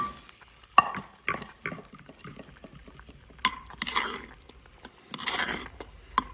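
Garlic and ginger tempering sizzles into a pot of saag, with intermittent stirring scrapes and bursts of frying crackle rising and falling over several seconds, close and moderately loud, no voices.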